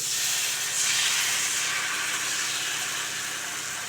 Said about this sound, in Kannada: ಇವಾಗ ಒಂದು ತಾವ ಇಟ್ಬಿಟ್ಟು ಸ್ವಲ್ಪ ಎಣ್ಣೆ ಹಚ್ಬಿಟ್ಟು ನೀರಾಗಿ ಹುಯ್ಕೊಂಡ್ಬಿಡ್ಬೇಕು ನೋಡಿ